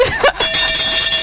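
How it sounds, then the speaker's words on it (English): A bell sound effect rings out with bright, sustained metallic tones that hold steady and loud through the short moment, briefly dipping before ringing on. "where's the bell?"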